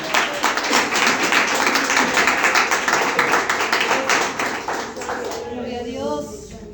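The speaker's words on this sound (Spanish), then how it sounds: "Si lo vas a aplaudir, apláudelo como Él se lo merece." Church congregation clapping in a strong, roughly rhythmic beat during a sermon, fairly loud and close, fading out as a voice begins speaking near the end.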